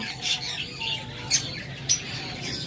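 A pair of sun conure parrots giving a few sharp, short squawks at irregular intervals over a low background hum.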